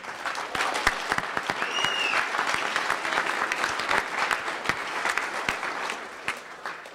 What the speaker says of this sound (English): So round of applause for everyone here this evening.